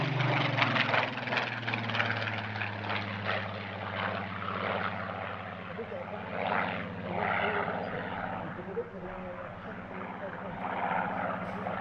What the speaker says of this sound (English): It's a PR-19, PR standing for Photo Reconnaissance, and it forms part of the Rolls-Royce Heritage Flight based at East Midlands Airport.